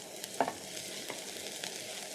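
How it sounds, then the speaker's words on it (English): Two garlic cloves sautéing with onions in a pan for a boiled egg sauce, a faint steady sizzle with a couple of light spoon scrapes, quiet and close. "you're going to add in 2 cloves of garlic, which you're going to saute for around 30 seconds"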